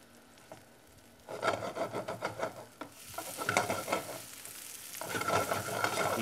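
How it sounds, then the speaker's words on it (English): Italian all-beef meatballs with cheese sizzling as they fry in a pan, a steady crackling hiss broken by repeated bursts of stirring and scraping. "Hear that sizzle? They're starting to get warmed up."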